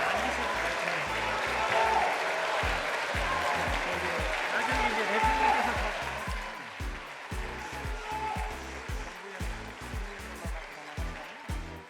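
Sustained applause from a large audience in the National Assembly, lawmakers giving a standing ovation during a presidential budget speech; dense, rhythmic clapping fills the hall, loud at first, then thinning into scattered claps toward the end.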